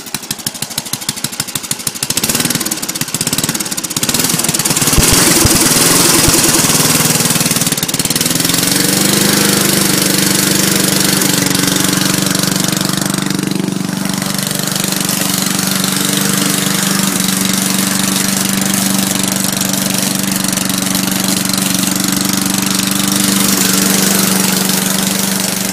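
An old, previously abandoned lawn mower engine sputters, then settles into a loud, steady low idle that runs on unbroken, close to the listener.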